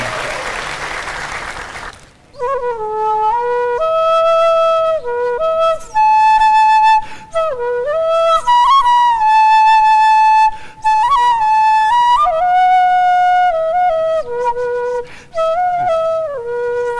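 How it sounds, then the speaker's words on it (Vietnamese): A Vietnamese bamboo flute plays a loud, clear melody of held and sliding notes on a dating show stage, following a short burst of noise like applause at the start. "Tiếng sáo là réo rắc lắm á nha"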